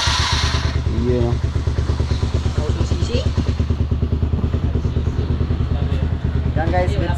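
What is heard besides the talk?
motorcycle engine started with starter motor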